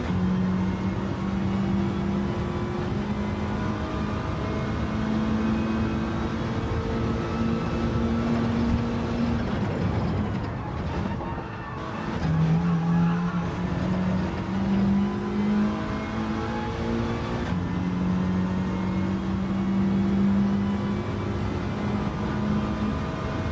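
A car engine in Gran Turismo 7 revs hard through gear changes, a loud, steady droning whine that climbs, dips briefly at a shift and climbs again, with no talk.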